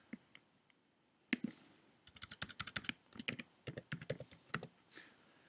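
Fast typing on a computer keyboard while entering search terms into a web form: a couple of isolated key taps, then a quick, uneven run of crisp clicks, close and fairly quiet with no talking.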